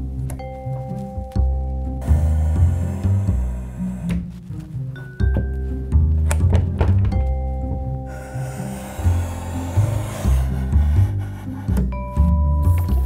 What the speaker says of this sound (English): just going to cut the mount on our manual mount cutter